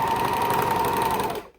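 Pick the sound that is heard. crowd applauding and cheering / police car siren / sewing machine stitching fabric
sewing machine stitching fabric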